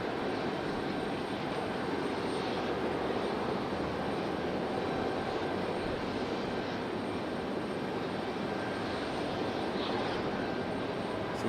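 AeroMexico airliner being pushed back at Raleigh-Durham International Airport, a steady broadband engine roar and whine holding at an even, fairly loud level throughout with no speech.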